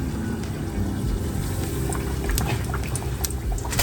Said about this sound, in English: make sure your oil is nice and hot so when you put them in there, they fry